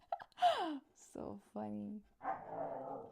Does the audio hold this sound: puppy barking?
yes